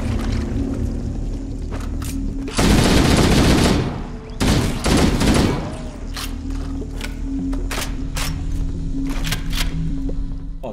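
Shotgun fire in Halo: Combat Evolved inside narrow tunnels: loud bursts of blasts with a dense cluster of shots in the middle, short sharp reports scattered around them, over a steady low game hum.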